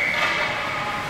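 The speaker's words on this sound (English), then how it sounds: "There's a whistle." A referee's whistle sounds at an ice hockey game in Tulsa, a brief high shrill tone at the start that fades quickly into loud, steady arena noise.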